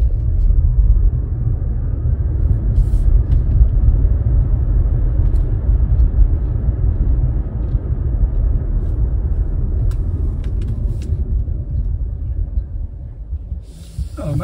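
A BYD Atto 3 car accelerates up to about 40, giving a loud, steady low rumble of road and wind noise that eases slightly toward the end, close inside the cabin, with a brief click near the finish.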